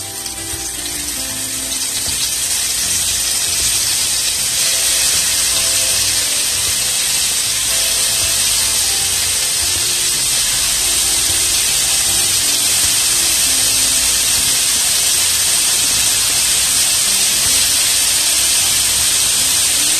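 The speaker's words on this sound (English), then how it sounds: "There you go, quickly sear." Marinated scallops searing in a hot pot, a steady, loud sizzling hiss that rises in the first seconds and then holds unbroken throughout.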